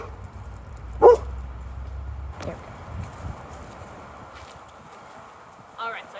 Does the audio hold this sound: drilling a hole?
no